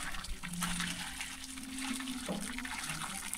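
Water pours in a steady gushing splash, continuous and moderately loud throughout, with no voices over it.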